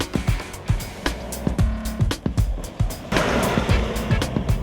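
A Mahindra TUV300 SUV with the 100 bhp mHawk100 engine drives along, with a steady road rumble broken by repeated close thumps and rattles, as if rolling over a rough surface.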